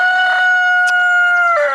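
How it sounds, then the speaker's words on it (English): An Australorp rooster gives one close, loud crow lasting under two seconds, a clear tonal call that ends in a short falling tail, with no talking. "there's our big alpha rooster. It's an Australorp."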